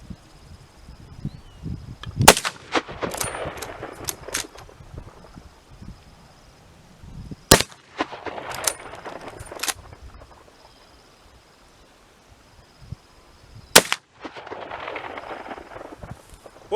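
A Winchester 1895 flatside rifle fires three sharp, loud shots spaced several seconds apart, with lever-action clatter, handling clicks and outdoor rustle between them.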